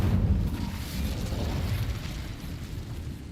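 An Incendio fire spell cast in Hogwarts Legacy bursts out as a heavy, low, rumbling whoosh that is loud at the start and then fades gradually across a few seconds.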